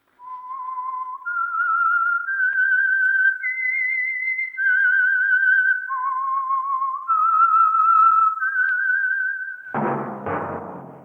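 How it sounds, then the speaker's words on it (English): A whistled theme signal for The Whistler radio mystery program, a clear, close melody of sustained rising and falling notes carried alone, ending with a short burst of other sound. "That whistle is your signal for the Signal Oil Program, The Whistler."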